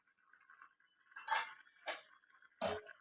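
Lid lifted off a cooking pot of masala curry, a few soft metallic clinks and scrapes in quiet surroundings, three distinct contacts spaced about a second apart.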